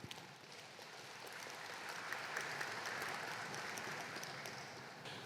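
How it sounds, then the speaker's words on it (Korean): A hall audience at a Korean university admissions strategy briefing applauds in a dense, even wash of clapping that swells slightly midway and holds steady throughout, fairly distant. "모두 박수로 맞이해 주세요"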